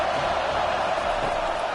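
Stadium crowd in a College Football 25 game between Ohio State and Penn State, a dense, loud, continuous roar with no breaks, heard briefly and on its own.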